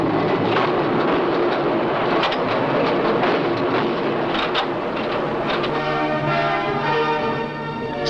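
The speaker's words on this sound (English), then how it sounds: "trains hauled by diesel or electric locomotives" Loud, steady rumble and clatter of an underground coal mine train hauled by a diesel or electric locomotive, running continuously with rattling wagons and a ringing metallic tone near the end.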